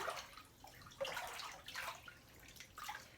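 A hand swishes through laundry wash water with grated soap, giving several bursts of sloshing and splashing at close range with short pauses between them.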